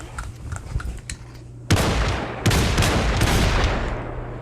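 Rapid gunshots from a gun in the Population One video game, a few scattered shots and then loud dense bursts of fire close up, mostly without talk.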